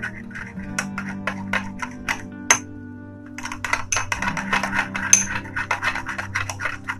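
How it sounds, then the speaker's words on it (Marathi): Homemade aloe vera gel hair spa cream being stirred in a small bowl, close scraping and rubbing strokes in quick irregular bursts, a short pause, then faster stirring, with no talking. "आता हे आपले 4 इंग्रेडियंट झालेले आहेत आणि आता आपण मस्तपैकी ते मिक्स करूयात"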